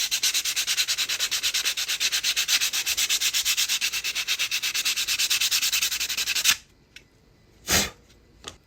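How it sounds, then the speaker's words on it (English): Rapid back-and-forth sanding strokes on a custom wooden body for an SCX24 RC crawler, a close, loud, rhythmic rasp lasting about six seconds, then stopping, followed by a single short scrape. "Do a little bit of sanding, and we should be pretty much there on that one."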